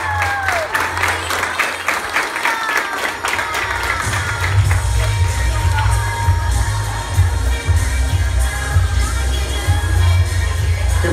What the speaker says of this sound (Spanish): ¡Fuerte el aplauso para ellos! ¡Que se escuchen esas palmas!